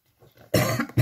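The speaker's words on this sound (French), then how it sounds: "pardon, j'ai toujours la toux." A woman clears her throat faintly, then gives two sharp, close coughs in quick succession.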